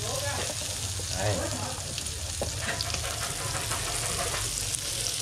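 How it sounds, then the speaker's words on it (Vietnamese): Crickets frying in fish sauce sizzle steadily in a pan while being stirred, a constant close crackle with occasional scraping. "Dễ chiên nước mắm nha các bạn."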